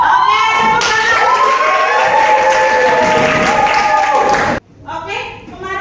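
A class of students applauds with a sustained, lively round of hand clapping for nearly four seconds. It overlaps with voices and then cuts off abruptly, leaving quieter talk at the end.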